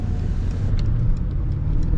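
Steady low road and engine rumble from inside a 2019 Mercedes-AMG S 63 sedan on the move, an even, close hum with no talking.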